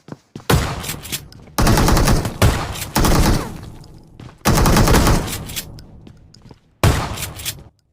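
Shotgun fire in a shooter video game: several loud, close bursts of blasts in separate clusters, with short quiet gaps between them.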